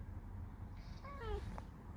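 A cat gives a single short, quiet meow, heard fairly near against a low background rumble.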